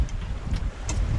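Strong wind gusts, around 14 knots, sweep across a sailboat at sea, a brief, rough, close buffeting roar that swells and dips over a low rumble.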